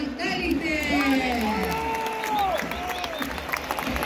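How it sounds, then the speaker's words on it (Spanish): A stadium crowd at La Bombonera applauds and cheers at a World Cup qualifier for Argentina, a sustained roar with whistles and shouts over which a voice talks throughout. "no hay otra que aplaudir a todos los clasificados al mundial"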